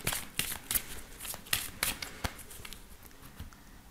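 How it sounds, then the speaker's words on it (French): Lenormand cards are riffled and shuffled by hand for a card reading, a burst of sharp, rapid papery flicks in quick clusters that taper into softer, quieter handling. "on va faire le tirage avec le Ferry Lenormand"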